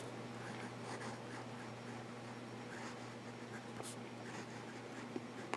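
Steel-nibbed Jinhao Centennial 100 fountain pen writing on paper, a faint, steady scratch with soft strokes and light taps close to the microphone, alone and quiet over a low hum.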